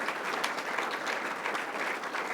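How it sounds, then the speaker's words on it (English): A round of applause from an audience at a Chicago event, a dense, even wash of clapping lasting a couple of seconds with no pauses. "let's give her a round of applause"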